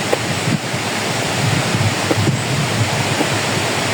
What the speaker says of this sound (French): c'est que le vent se lève, c'est la tempête